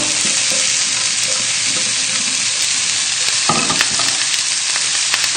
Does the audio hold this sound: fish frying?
yes